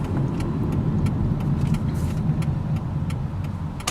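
Steady interior road noise from a car being driven, a constant low rumble with faint rattles and jingling like keys, moderately loud and without talk.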